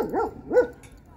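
Great Danes bark at a dog park in Spanish Fork, two deep, close woofs in quick succession followed by quiet.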